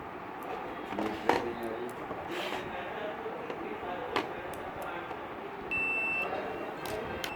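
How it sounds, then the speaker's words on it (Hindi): A multimeter beeps during a continuity check on a double-door fridge part, giving a steady electronic tone late on over faint handling clicks and room noise. "मीटर बीप दे रहा है"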